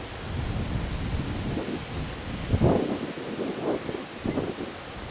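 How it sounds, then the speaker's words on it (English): Strong storm winds gust and roar steadily across the microphone, with deeper surges and rumbling buffets swelling loudly around the middle and again near the end, no voices heard. "we haven't had wind like this in quite a while"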